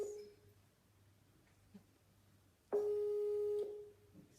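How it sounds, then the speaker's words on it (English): A Skype call rings out as a steady electronic tone that starts partway through, holds for about a second, then stops, with quiet room noise before and after. "it's ringing on Skype, it's not picking too."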